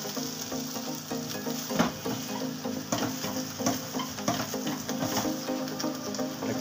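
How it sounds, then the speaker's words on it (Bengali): Bread bun toasting in a grill machine for a flat bread sub sandwich, a steady soft sizzle and crackle with light clicks and taps from handling, moderately quiet and continuous with no talking. "এখন বানটাকেও আমি টোস্ট করব, তার জন্য এটা গ্রিল মেশিনে দিয়ে দিচ্ছি।"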